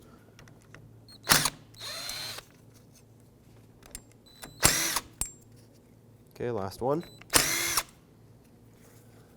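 Hand ratchet backing out three 10mm bolts holding the wiper motor on a 2006-2011 Chevrolet HHR, heard as several close bursts of quick metallic clicking separated by pauses, with a brief spoken remark.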